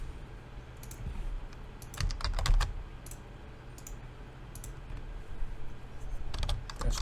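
Someone types a command on a computer keyboard, with short bursts of quick clicking keystrokes separated by pauses over a quiet room hum, close and fairly soft.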